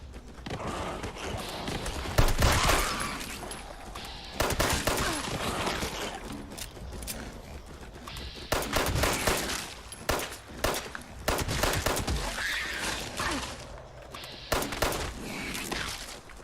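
Gunfire bursts from shooting mole rats in the Fallout 76 video game crack out in clustered volleys, sharp and loud, separated by stretches of game ambience, with no speech.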